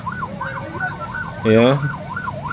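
Ambulance and police sirens at a market fire in Kemayoran, Jakarta, a wailing siren rising and falling repeatedly over street rumble, briefly interrupted by a loud horn-like blare in the middle, with a short spoken word.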